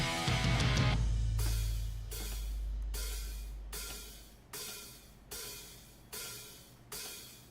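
Distorted metal/punk electric guitar riff: a ringing opening chord, then a run of heavy, evenly spaced chugging power-chord hits over a sustained low rumble, loud and close with no voices.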